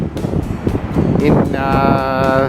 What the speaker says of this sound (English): I don't know how much you can hear, guys, it's very windy.